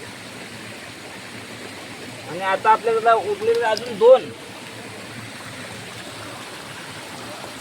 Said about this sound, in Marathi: हा तो पुढे धबधबा बघा